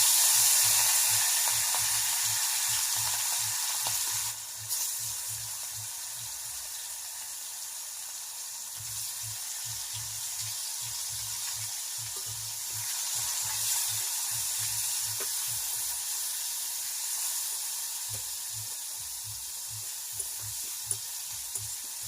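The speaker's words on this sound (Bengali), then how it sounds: "বন্ধুরা এখন মাছগুলোকে কাঁটা মাছগুলোকে ভেজে নিচ্ছি" Pieces of bony fish fry in hot oil, a steady broadband sizzle running throughout at moderate level with intermittent low bubbling pops and occasional stirring, no voices.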